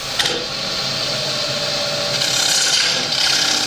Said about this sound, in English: I'm going to speed that lathe up just a little bit.